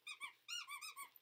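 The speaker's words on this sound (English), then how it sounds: "And it's a squeaky snowman." Squeaky snowman dog toy squeezed in a quick series of high, tonal squeaks, about five bursts in just over a second, close and clear in a quiet room.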